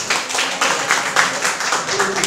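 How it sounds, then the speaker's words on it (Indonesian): A room of people clapping together in a brief burst of applause, dense and moderately close, with a voice speaking over it. "Berikan tepuk tangan"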